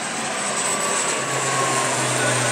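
A fixed-wing airliner on the Songshan Airport runway makes a loud, continuous engine roar with a low drone rising midway, steady and close, with no voices.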